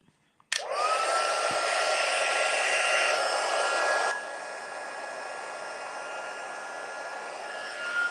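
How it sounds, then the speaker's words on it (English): A heat embossing gun on its high setting starts abruptly with a steady, loud rush of blowing air and a whining tone, runs for a few seconds, then drops to a softer continuous hum. "But the high setting is for heat embossing. So I'm going to turn this on."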